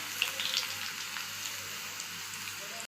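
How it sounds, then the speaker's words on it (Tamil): Close, steady sizzling of garlic frying in hot oil for paruppu kulambu, a soft crackling hiss that cuts off at the end. "பூண்டு நல்லா எண்ணெயில் பொரியிட்டுங்க, அப்போ தான் நல்லா டேஸ்ட் கிடைக்கும்"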